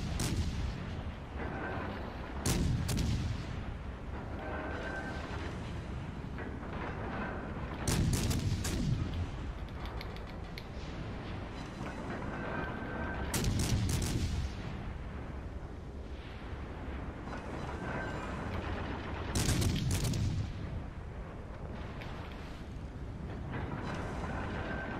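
Heavy naval guns in World of Warships Legends, aboard the cruiser USS Worcester, fire in loud booming salvos roughly every five to six seconds, each a sharp blast with a rumbling tail, over steady ship and engine noise.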